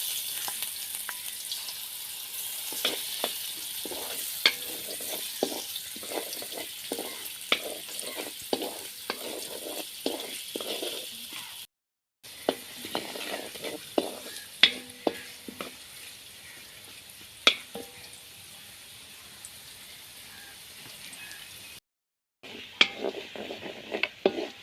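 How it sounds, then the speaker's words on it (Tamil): Vegetables frying in hot oil for upma, carrot among them, with a steady sizzle and frequent rhythmic stirring scrapes against the pan, close and moderately loud, broken by two brief silent gaps, no speech. "இப்போ எண்ணெய் சூடாகிட்டு நாங்கள் இப்போ கரெக்டாக வதக்கி எடுக்க போகிறோம்"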